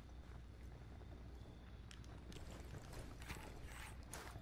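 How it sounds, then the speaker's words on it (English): Enemy footsteps in the tactical shooter Ghost Recon, a soft irregular patter of steps moving nearby under a steady game ambience, with no one talking. "I hear his footsteps"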